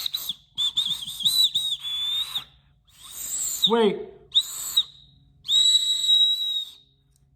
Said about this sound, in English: Look at the whistle. Let's blow it.